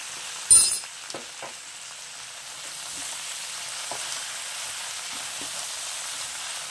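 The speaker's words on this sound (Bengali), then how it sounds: "এটাকে ভাজা ভাজা করে নেব।" Vegetables seasoned with salt and turmeric fry in a pan with a steady, gentle sizzle, broken early by a sharp clank of a utensil and a few light stirring taps.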